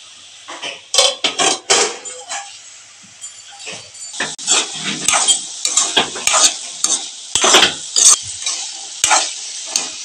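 Brinjal pieces frying in a pan for a dry fish curry, with a steady sizzle broken by repeated close scraping stirs in irregular bursts, with no talk.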